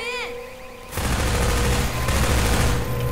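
Sustained rapid gunfire from Half-Life 2 erupts after a brief quiet lead-in with a whirring electronic tone, loud and dense bursts running to the end.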